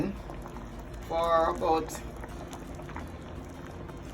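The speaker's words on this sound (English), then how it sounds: "everything coming to a boil now" A pot of red pea soup with cow skin and pumpkin bubbles at a steady boil, with a soft, continuous gurgle and a brief louder burst. Someone speaks over the bubbling.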